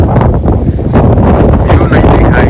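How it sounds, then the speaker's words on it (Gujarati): Strong wind blows across a monsoon hilltop at Wilson Hill in Dharampur, Gujarat, a loud, steady rumbling buffet against the microphone that fills the whole stretch with gusty swells. "એટલો પવન છે, મસ્ત પવન છે"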